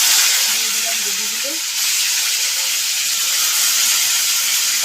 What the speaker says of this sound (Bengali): এবার করছি গোবি ভাজা